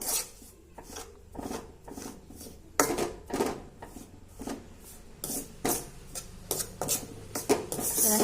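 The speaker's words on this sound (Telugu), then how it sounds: "స్టవ్ ఆఫ్ చేసి చక్కెర పొడి వేసి మళ్ళీ ఒకసారి అయితే కలుపుతున్నా" A spoon scraping and stirring powdered sugar into a besan laddu mix of roasted gram flour and ghee in a pan with the stove off, giving repeated rhythmic rasping strokes with metal clinks, close and fairly loud.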